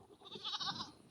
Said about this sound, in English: Oldest goat we got in the pen.